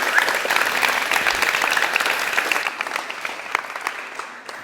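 A conference audience at a creativity forum plenary applauds loudly and densely as a presenter takes the stage, the clapping thinning toward the end.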